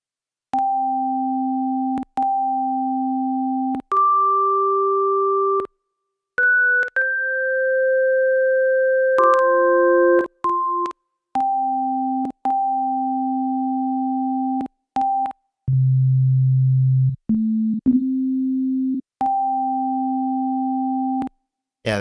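An FM-style synth tone from a VST plugin plays clean sustained pitched notes in separate steps with abrupt starts and stops, each held a second or two, shifting between higher and lower pitches, with a deep buzzy low note near the end.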